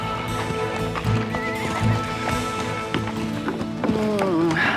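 On a horse farm, hooves clip-clop in an uneven rhythm while horses neigh and whinny repeatedly, close and fairly loud, with brief human voices mixed in.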